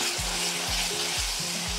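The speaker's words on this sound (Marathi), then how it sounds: "आता हे छान परतून घेऊयात मिनिटभर." A paste of ground coconut, garlic and coriander sautés in a hot pan, a steady close sizzle broken by a few rhythmic stirring strokes, with no one talking.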